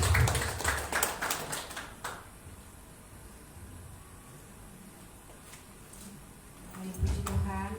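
A church congregation clapping, a burst of loud claps in the first two seconds that fades into quiet room tone, then rises again near the end with voices present.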